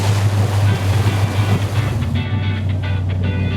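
A 340-horsepower jet boat speeds along a river among tall mountains near Whistler, a loud, continuous roar of engine and rushing water with wind buffeting the microphone, then choppy water slaps near the end.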